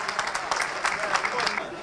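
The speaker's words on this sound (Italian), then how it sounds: "Applausi per la palermitana del pubblico di Ribera." Spectators at a football match in Ribera applaud the visiting Palermitana side, a steady patter of clapping heard at a distance and held briefly.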